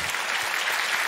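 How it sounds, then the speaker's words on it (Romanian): A studio audience at a stand-up comedy show claps loudly for a guest, a dense, continuous burst of applause with no talking. "Aplauze pentru el."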